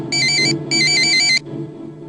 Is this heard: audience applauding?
no